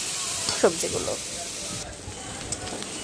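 Vegetables fry in a pan with a bright, hissing sizzle that runs continuously while a voice talks over the cooking.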